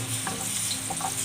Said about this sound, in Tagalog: Siyempre bawang muna. Then siyempre, haluin natin.